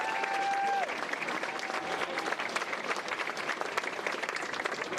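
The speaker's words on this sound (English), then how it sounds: "So, big round of applause for everyone in behind." A crowd at the Westmeath GAA senior football final gives sustained applause for the team's helpers, a dense and fairly loud clapping that stays level throughout after a brief tonal sound at the start.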